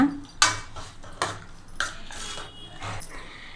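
Vegetables being stirred in a pot for a Salem-style black bean kootu with brinjal, tomato, curry leaves and coriander, giving four or five sharp metallic scrapes and clinks of a spoon against the pot, spaced irregularly with quieter shuffling between.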